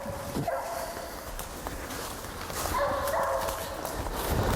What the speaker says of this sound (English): I'll say you can tell the difference in her bark.